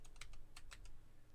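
Computer keyboard typing: a few quick, faint key clicks in an irregular burst, close by and alone.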